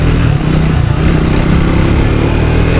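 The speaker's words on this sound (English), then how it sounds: "Okay, very torquey motorcycle," A Triumph Speed 400 motorcycle accelerates hard, its engine note loud and close and pulling steadily, wrapped in heavy wind rush with no talking.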